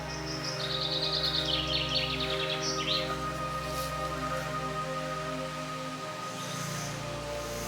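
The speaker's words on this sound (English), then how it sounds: "all accompanied by some beautiful bird song." Songbirds chirp and trill in bright repeated phrases over a steady low hum in Lorient, France, near an old port area with anchors, the calls moderately close and clearest in the first few seconds.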